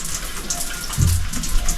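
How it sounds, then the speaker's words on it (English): A home-built shower with a water heater switch sprays water in a steady rushing hiss that swells slightly partway through, close and continuous with no talk. "If you want hot water, there is a switch here. You just put this on and you switch on water."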